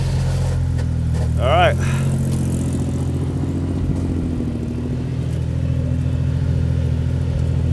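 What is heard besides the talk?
1970s Jeep CJ5 engine with worn clutch throwout bearing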